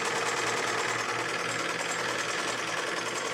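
A sewing machine runs steadily, stitching a straight one-inch-spaced seam on a craft project, a continuous close mechanical whir with no pauses across the few seconds.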